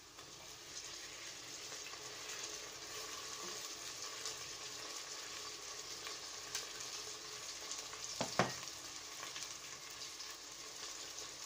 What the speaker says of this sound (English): mix onions are becoming quite golden color. So now what I'm going to do, add my tomatoes in there.